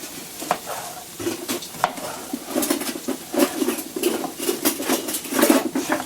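A plastic spoon stirs pizzaghetti in a pan, giving irregular scraping and clinking strokes with a soft sizzle underneath, close up and moderately loud.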